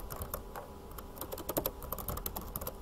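Typing text into a Word document on a computer keyboard: close, irregular bursts of key clicks in quick succession, with no voice.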